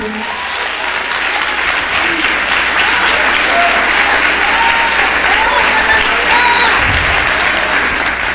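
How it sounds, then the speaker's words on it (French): A church congregation applauds loudly and steadily throughout, a dense wash of clapping with faint voices and cheers mixed in beneath. "Quelqu'un peut acclamer très fort."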